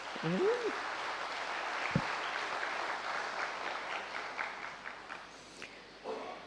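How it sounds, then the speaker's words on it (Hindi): An audience at a spiritual youth gathering claps along in a dense, sustained round of applause that gradually thins and fades toward the end, with a brief voice at the start and close. "तो अपने भाग्य के लिए ताली बजाओ"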